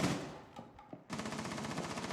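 Rapid automatic gunfire from a pre-fire in the tactical shooter video game Rainbow Six Siege, a burst of close, loud shots following a few softer thuds and footsteps.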